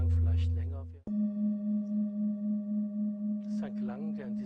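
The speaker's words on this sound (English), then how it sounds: "Maybe you will notice that the sounds of the singing bowl change." A singing bowl is struck and rings with a pure, sustained tone that pulses gently as it decays, with a voice speaking before and after during a sound healing session.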